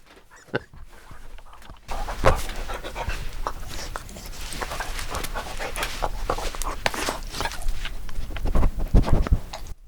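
A dog pants close by in quick, steady breaths, with occasional soft thumps and shuffling movements throughout.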